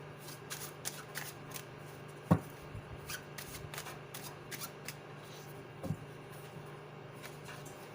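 A tarot card deck is shuffled close by, with quick riffling and flicking card sounds, soft slaps and a few sharper taps as the cards are handled.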